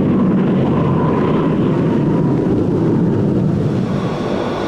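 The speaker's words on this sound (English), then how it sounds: "Now making its entry into TAC's airlift fleet is an improved model of this reliable transport, the C-130E." A C-130E transport aircraft, the improved model entering Tactical Air Command's airlift fleet in 1962, gives a loud, steady propeller and engine drone with broad rumbling noise throughout, heard alone with no voices.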